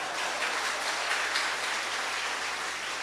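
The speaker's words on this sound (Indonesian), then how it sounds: "Ini tepuk tangan apa?" A church congregation applauds during a worship service at GKE Sakatik in Palangka Raya, a steady, even wash of clapping hands that continues without pause at moderate loudness.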